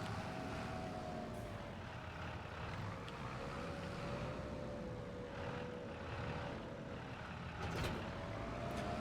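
A tractor engine in Farming Simulator 25 drones steadily and up close, with a constant low rumble and a faint whining tone throughout.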